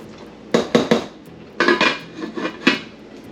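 Bacon fried rice being stirred in a metal pan makes several loud, close clanks and scrapes of a utensil against the pan in short uneven bursts.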